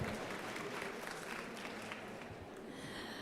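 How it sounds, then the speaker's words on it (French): Audience applause at a French corporate webinar event, a fairly quiet, steady patter of clapping from a modest crowd, fading slightly toward the end. "Un peu plus fourni les applaudissements, s'il vous plaît."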